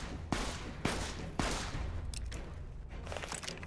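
Gunfire in Fallout: New Vegas, three sharp distinct shots spaced about half a second apart, then a busier stretch of fainter shots and clatter, moderately distant with no talk.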